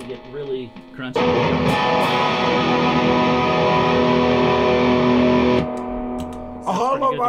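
A single hollow body electric guitar chord through a heavy distortion pedal rings out loud and sustained for several seconds, with brief speech before and after.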